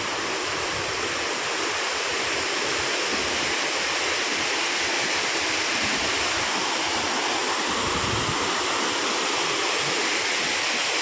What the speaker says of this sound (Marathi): बघा पाणी बघा असला पडत आहे धबधब्याचा, एक नंबर.